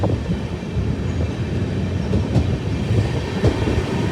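Train 16206 from Mysuru to Talguppa crosses the Hemavathi river bridge with a loud, close rumble and a rhythmic clickety-clack of wheels, plus occasional sharper metallic knocks and no voices.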